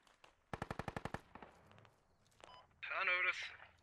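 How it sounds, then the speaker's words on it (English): Machine gun fire in the Squad military video game: a quick rhythmic burst of about eight sharp shots, followed by scattered fainter reports and a brief voice at the end. "Probably machine gun on top of our roof or something."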